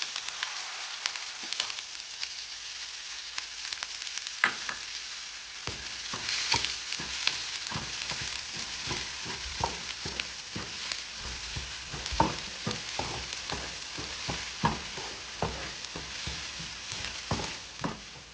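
Fenugreek seeds and onions fry in oil for a fish curry with coconut milk, a close, steady sizzle lasting throughout, punctuated by many sharp spatula taps and stirring scrapes, with no talk.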